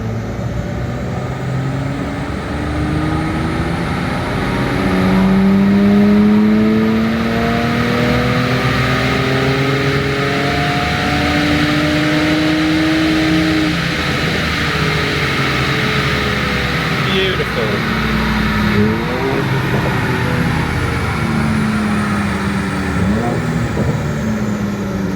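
A 2019 V6 car engine drones through a dyno sweep test, a loud, continuous run with pitch climbing steadily, then settling lower, the car held at load throughout.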